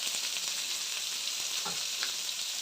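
Onions and curry leaves fry in oil for tomato gojju, giving a faint but steady crackling sizzle with a couple of soft stirring taps and no talking.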